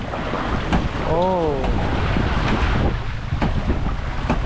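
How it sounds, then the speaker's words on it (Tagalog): Rough sea waves churn and strong wind buffets the microphone aboard a fishing boat, a loud, continuous roar with a brief voice calling out partway through. "nagwawala na ang alon. Umangin na naman na malakas."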